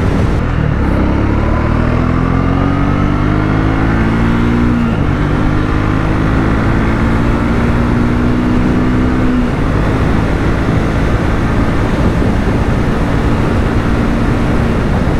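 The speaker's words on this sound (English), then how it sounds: "before getting a chance to ride this Triumph T4" A 2025 Triumph Speed T4 motorcycle engine drones steadily while riding at cruising speed, with rising and falling engine tones over loud, constant wind rush close to the microphone, no talk.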